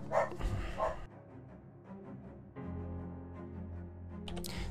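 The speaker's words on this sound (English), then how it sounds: "Excuse the dog." A dog barks indoors during a game of Shadows Over Loathing, a couple of sharp close barks at the start followed by softer whimpering and yipping sounds, with no speech.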